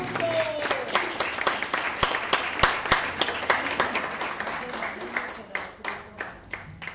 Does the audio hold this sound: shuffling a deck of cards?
no